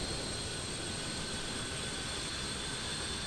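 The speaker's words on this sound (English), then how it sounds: "Our second APU is spooling up now" An APU on the AN-225 in Microsoft Flight Simulator spools up, a steady whining turbine hum with a high tonal whistle over broadband rush, continuous and even throughout.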